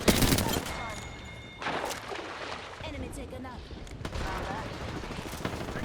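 Gunfire bursts crackle through a squad fight in the battle royale game Apex Legends, with dense overlapping shots, sharp peaks near the start and around two and four seconds, and game voice chatter mixed underneath.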